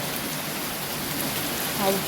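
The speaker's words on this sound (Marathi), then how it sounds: "पाऊस हा पाऊस परत जोरात वाढला" A heavy downpour of rain keeps up a constant dense hiss, loud and even throughout, with a faint brief voice near the end.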